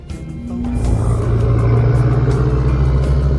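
A loud dump truck passes close by outdoors, its heavy engine rumble swelling within the first second and holding steady, dense and low.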